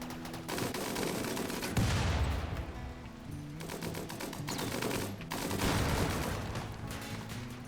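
Video game turrets fire in sustained bursts of rapid gunfire with booming explosions, loud and continuous with brief lulls between volleys.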